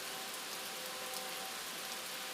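Rain falls steadily, a soft, even hiss of drops on surfaces, faint and unbroken, with no voices.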